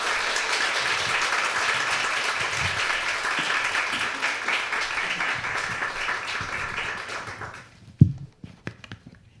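An audience claps to welcome a lecturer before a special lecture on the intertestamental period: dense, steady applause for about seven seconds, then fading out into a few scattered claps and light taps.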